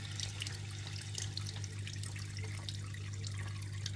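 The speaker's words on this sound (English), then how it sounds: "we're going to do the honours and plug in the pump and see how that looks" Small water pump running a waterfall in a bioactive White's tree frog tank, giving a steady soft trickle and splash of water over a constant low electrical hum, close and continuous with no talking.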